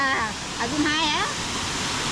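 A waterfall rushes in a steady broadband roar close by, while voices talk briefly over the constant wash of falling water.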